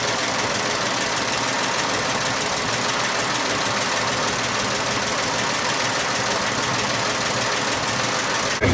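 A 1926 Oakland car's engine runs loud and close, a steady rough mid-pitched idle with a knocking, throbbing texture that holds evenly throughout, with no talk over it.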